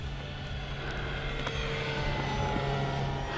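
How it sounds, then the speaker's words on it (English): An E-Flite T-28 Trojan RC warbird on a 3S battery makes a full-throttle pass, giving a steady electric-motor and propeller drone that holds fairly even throughout with no speech. "Let's do a full throttle pass on 3S so you guys can get a feel for that."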